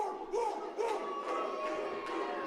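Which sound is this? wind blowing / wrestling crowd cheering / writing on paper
wrestling crowd cheering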